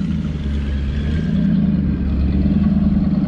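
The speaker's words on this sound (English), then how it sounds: "This is my friend Buddy's 1934 pickup. He's got a small bought Chevy in it. Bone 671 blower on it." A 1934 pickup powered by a small-block Chevy with a 671 blower rumbles nearby, a deep steady low engine drone with a slight swell partway through and no voices over it.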